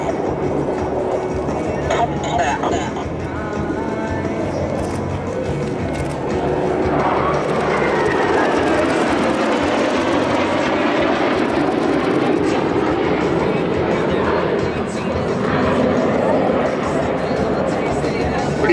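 Black Eagles jets of the Republic of Korea Air Force roaring through an aerobatic maneuver at the Singapore Airshow 2016, a loud sustained engine rumble with a rising sweep mixed with an announcer's voice.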